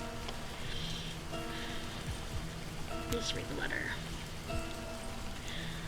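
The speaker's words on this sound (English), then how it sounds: "The raindrops fall on the paper" Steady rain patters over a game scene in Livber: Smoke And Mirrors, with a soft musical drone and a brief chime beneath. A voice speaks briefly over the continuous rainfall.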